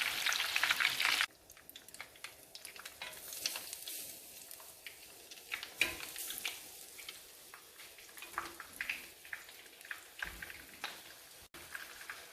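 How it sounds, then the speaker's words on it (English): Breaded shrimp sizzle and crackle in hot frying oil, a dense, steady hiss with popping bubbles close by, no voices over it. "Shaden is cooking the rest of the shrimp, frying the rest of the shrimp"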